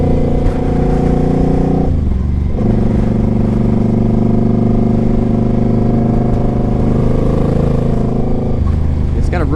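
A 2006 Suzuki Boulevard C50T motorcycle rumbles loud and close through aftermarket exhaust pipes, holding a deep steady idle with brief revs near the start and the end.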